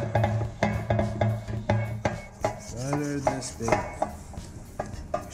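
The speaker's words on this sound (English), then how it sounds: "so now we are going to butter this pan" Butter being spread around a metal baking pan for banana bread, a run of close scraping and clinking strokes at an uneven rhythm, with a brief rubbing squeal partway through.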